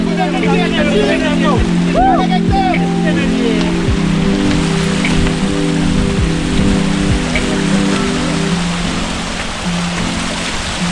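Heavy rain pours steadily on a monsoon trek in the Sahyadri hills of Maharashtra, a dense continuous hiss with close drips, while people talk over it.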